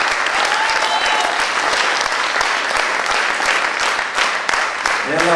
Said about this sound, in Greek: Аплодисменты, пожалуйста